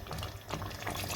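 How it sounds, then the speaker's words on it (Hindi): Water poured into a pot of chickpea and potato curry, a soft continuous splashing and gurgling fill at moderate level, with no talk. "मैं इसमें तकरीबन छोटे वाले 2 कप डाल रही हूँ।"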